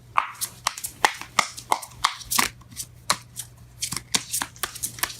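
Tarot cards being shuffled by hand, a quick run of sharp riffling snaps and slaps in an uneven rhythm, close and clear with no talk.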